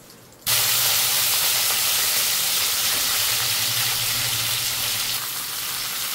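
A bay leaf and a stemmed dried red chilli drop into hot oil with five-spice seeds and set off a sudden burst of loud, close sizzling that hisses on steadily and then softens slightly near the end.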